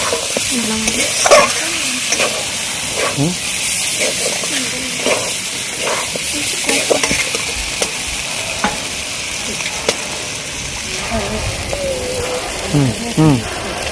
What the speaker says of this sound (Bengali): এবার তো মশলাগুলো দিয়ে এবার নাড়িয়ে নিই